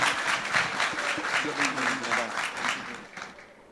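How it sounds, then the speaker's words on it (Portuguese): Audience applause at a Campus Day tech event as a speaker goes on stage, a steady wash of many clapping hands with voices mixed in, tapering off toward the end. "Uma salva de palmas para ele, por favor."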